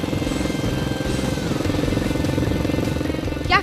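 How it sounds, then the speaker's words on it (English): A Royal Enfield Continental GT Cafe Racer motorcycle engine idles close by with a steady, loud, pulsing thump, and a brief sharp chirp near the end. "That's the new Royal Enfield Continental GT Cafe Racer"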